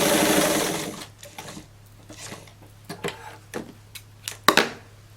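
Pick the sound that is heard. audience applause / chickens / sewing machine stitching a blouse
sewing machine stitching a blouse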